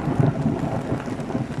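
A low, rumbling roll of thunder mixed with the wash of rain and wind noise, continuous and fairly loud.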